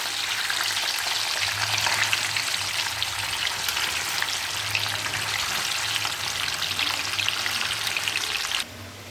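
Chickpeas and green peas fry in hot oil for spicy masala peas, giving a steady, dense sizzle that holds evenly throughout and drops slightly at the very end, with no voices.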